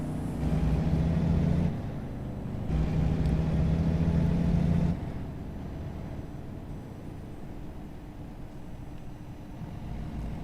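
Truck engine in American Truck Simulator, a low, steady droning rumble that runs the whole time, louder in two stretches during the first five seconds and then settling into a quieter continuous hum.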